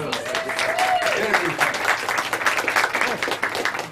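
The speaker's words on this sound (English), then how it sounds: "y'all give Chris another round of applause" Audience applause at a live show in Lynchburg, a round of clapping filling the room for a few seconds, with a voice speaking over it at the start.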